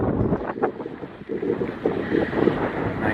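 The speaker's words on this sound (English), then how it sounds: "Made it to the Rim Overlook. It's pretty windy up here." Strong wind buffeting the microphone at a canyon rim overlook in Capitol Reef National Park, Utah, a steady broadband roar with gusty swells throughout and no voices.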